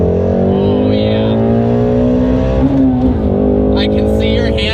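A Shelby GT350 engine revs hard under acceleration, a loud steady rising drone close by with people talking over it.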